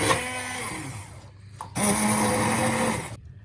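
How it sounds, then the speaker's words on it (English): A hand blender whirs loudly while pureeing fish soup, running steadily, dipping in pitch for a moment mid-way, then surging back before cutting off abruptly. "we're going to start blending it using a hand blender"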